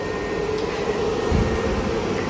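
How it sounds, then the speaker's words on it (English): A dehumidifier and fan system run steadily in a church hall at a craft market, a constant even hum and whir with no talking and no change in level. "dehumidifier and the fan system for the summer going."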